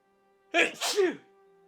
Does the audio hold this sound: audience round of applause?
no